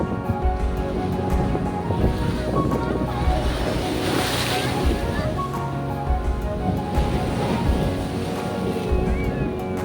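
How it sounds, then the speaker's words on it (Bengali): Big sea waves break on a beach with a loud, continuous roar and surging wash, with wind buffeting the microphone and a swell building near the middle. "এত বড় সমুদ্র, এত বড় বড় ঢেউ"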